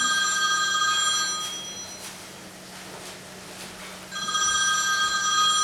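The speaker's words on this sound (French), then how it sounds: "Téléphone." A telephone rings with two bright electronic trills separated by a pause, clear and close in a quiet French home.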